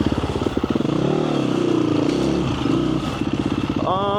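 An enduro motorcycle revs hard on an off-road trail in Florida, close and loud, its engine rising and falling in pitch with rapid firing pulses; a brief voice breaks in near the end.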